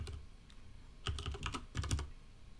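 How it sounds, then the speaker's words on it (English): A Corsair mechanical keyboard with Cherry MX Red switches is typed on in quick, close clattering bursts, two clusters of keystrokes separated by a brief pause in a quiet room. "You're all like, shut up your stupid keyboard."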